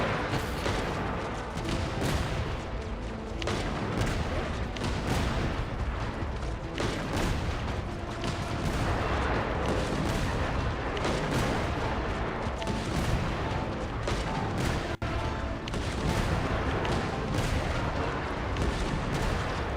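Rapid, continuous artillery cannon barrage from a tower-defense setup in Genshin Impact, dense overlapping booms and blasts filling the whole stretch at steady high loudness, with no pause.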